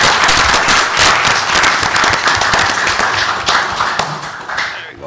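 A council meeting audience in the City of Pico Rivera applauds, dense crackling claps with a few sharper individual hits, sustained for about five seconds before easing off.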